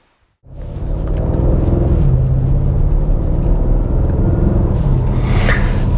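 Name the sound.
C7 Audi RS6 Avant car driving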